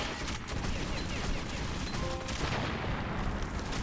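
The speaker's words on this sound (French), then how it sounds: "Je tire sur le gars là." Gunfire in Metro 2033 Redux: scattered shots and bursts crackle over a dense, steady game soundscape at moderate volume, with no clear single report standing out.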